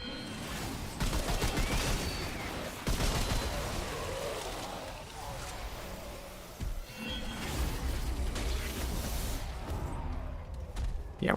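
Rapid gunfire crackles through a fight in the video game Remnant 2, dense bursts of shots and impacts with whooshes over a busy game soundscape, a low voice faintly underneath.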